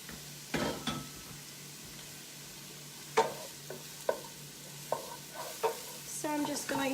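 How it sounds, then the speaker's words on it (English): Onion frying and browning in a pan, a soft steady sizzle with occasional sharp clicks of a utensil stirring against the pan. "So I'm just going to let this start to brown up just a tiny bit here"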